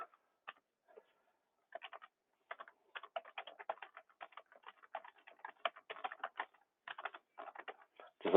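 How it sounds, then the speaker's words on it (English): Fingers typing on a computer keyboard, quick irregular bursts of light clicking keystrokes close by, pausing briefly between words, with no talking. "just let me type this real fast"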